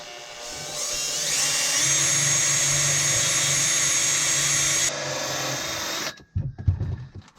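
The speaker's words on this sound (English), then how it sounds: "We're going to mark the hole and drill." A power drill bores a hole in the hull of a Hallberg Rassy 54 sailboat, a loud close high-pitched whine that rises and holds steady for several seconds, then cuts off into a few clunks and knocks.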